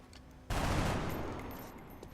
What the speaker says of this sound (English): Some unexpected shooting sources are hitting.